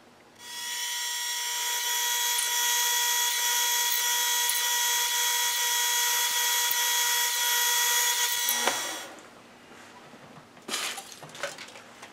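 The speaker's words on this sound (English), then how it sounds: "That makes fairly short work of the drilling." Split-point stub drill boring holes in a workpiece on a rotary table pallet, a steady high whining screech with strong tones for about eight seconds, then it stops and light clatter and handling follows.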